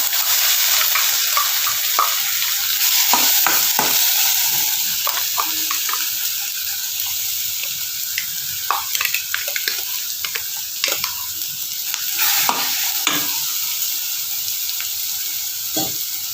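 Ground masala with coconut and tomato is stirred and fried in a pan for brinjal curry, making a continuous sizzle broken by scattered spoon scrapes and knocks that cluster more densely in the later part.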